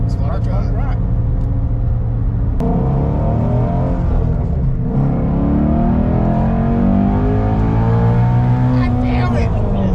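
Ford Shelby GT350 V8 engine accelerating hard through second gear, a loud rising roar that climbs in pitch over several seconds, with excited voices talking over it inside the car.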